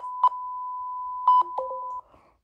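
A censor bleep sound effect on a group video call: a steady electronic tone sounds in two long stretches broken by short clicks, then cuts off abruptly.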